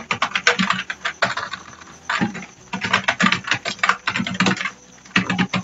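Fingers type on a computer keyboard in close, crisp bursts of rapid keystrokes separated by brief pauses.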